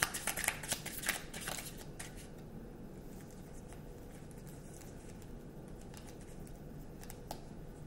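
Tarot cards being shuffled and handled, a quick burst of riffling flutter at the start, then a softer steady papery patter of cards being drawn, close and quiet, with no talking.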